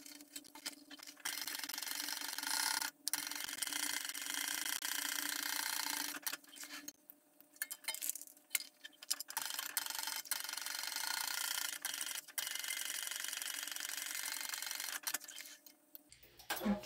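A sewing machine stitches the side seams of a fabric tote bag at a 3/8-inch allowance, a close steady ticking run broken by short pauses and restarts throughout.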